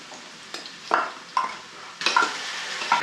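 Garlic paste frying with softened onion and being stirred in a pan, with a steady sizzle broken by several distinct scraping stir strokes, close and alone.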